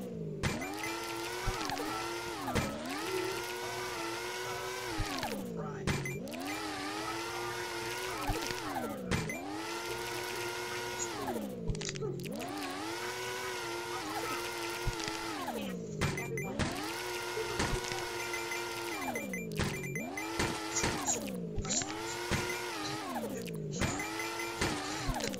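Synthetic monster truck engine in the Hill Climb Racing mobile game, a steady electronic whine whose pitch repeatedly climbs and drops in regular surges roughly every five seconds, with no talking.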